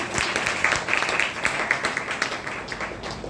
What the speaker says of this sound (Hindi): तो मैं चाहती हूँ इनके लिए भी एक जबरदस्त तालियां मिलती मैम के लिए